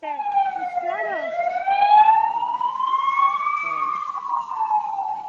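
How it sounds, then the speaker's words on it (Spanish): An ambulance siren wails steadily nearby, its sweeping tone rising and falling, with people talking over it. "Le paré tantito por la ambulancia"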